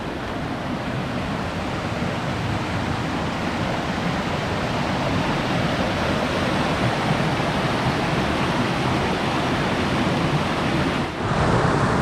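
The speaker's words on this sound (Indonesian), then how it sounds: "Itu dia sungainya" Rushing water from the Gitgit waterfall and river in Bali, a dense steady roar close by and filling the whole space without pause, with no voices.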